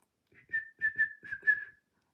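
A cheerful whistled tune from a ghost in a children's story, a short bright phrase of about five lilting notes, close and fairly soft, alone without talk.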